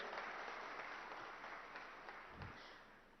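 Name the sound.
applause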